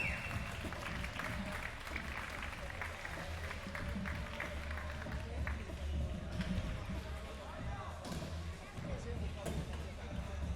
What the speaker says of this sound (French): applaudissements pour Marion.